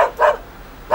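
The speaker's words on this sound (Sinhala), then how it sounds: "මට ඈතින් බල්ලෙක් බුරනවා ඇහුණා." A dog barks loudly and close by: two quick sharp barks, a short pause, then a third bark, with nothing else audible between them.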